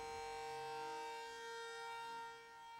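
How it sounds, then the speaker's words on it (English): Evacuation sirens in a tsunami drill in Padang give a steady, sustained civil-defense wail, faint and distant, holding one tone throughout with no talk. "Kogami uses sirens brought by SRO to signal the evacuations"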